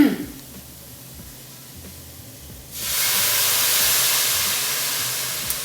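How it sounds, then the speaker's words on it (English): Pureed tomato poured into a hot pan of sticking chickpea masala ingredients with ghee, a quiet start giving way to a sudden loud, steady hissing sizzle that carries on alone. "we're gonna deglaze it with the tomato, the pureed tomato"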